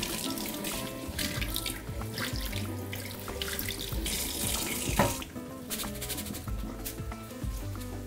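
Cold tap water runs steadily over coarse bulgur being rinsed for stuffed peppers, a continuous close splashing rush in a sink with faint clatter underneath and no speech.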